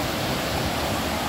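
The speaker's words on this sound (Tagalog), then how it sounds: "Ang ganda ng alon." Steady broadband surf of ocean waves at a beach by a hotel pool, a continuous loud wash with no distinct breaks or voices.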